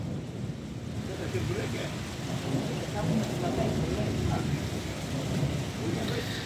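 Heavy thunderstorm with dense, constant rain pouring down and low rolling thunder rumbling beneath it, loud and close for the whole stretch.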